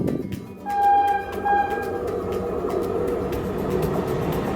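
A cartoon train sound effect plays for kids: a rumbling rolling train with a rhythmic clatter and brief whistle-like tones near the start, steady and moderately loud throughout.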